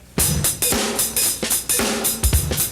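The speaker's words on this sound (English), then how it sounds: "And you can mess with the hi-hat." A drum kit hi-hat in a jazz-style groove, crisp close cymbal chicks and splashes recurring in a steady rhythm alongside kick and snare hits, loud and unaccompanied by talk.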